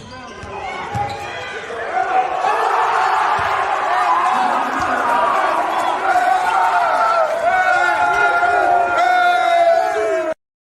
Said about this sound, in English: I think I have the video of Sam's layup with the crowd here